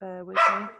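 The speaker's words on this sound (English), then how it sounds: "Sorry about the dog." A dog barks once indoors, a sharp, close yelp with a tonal lead-in that quickly fades, heard just as someone speaks.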